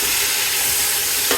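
Tomatoes and browned onions fry in a pan with ginger-garlic paste and green chillies for a lentil pulao, making a brief, close, steady sizzle with no talking.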